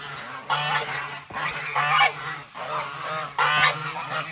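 Geese honk loudly and repeatedly in several bursts, close and raucous, with short pauses between calls.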